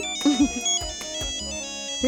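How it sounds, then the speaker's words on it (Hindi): A phone ringtone plays a bright repeating electronic melody in a home during a Hindi TV serial scene, clear and steady throughout, with no voices over it. "मिसेस मालती का फोन है"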